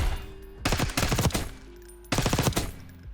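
Two quick bursts of rapid-fire automatic gunfire in Black Ops 6, each a tight string of loud, sharp reports, with a short gap between them.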